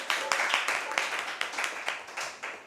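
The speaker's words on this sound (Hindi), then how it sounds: "जोरदार तालियों के साथ।" Loud applause at a cultural event in Bhopal, with a crowd clapping steadily and close through the whole moment, sharp claps rising in uneven bursts over a bright, dense wash.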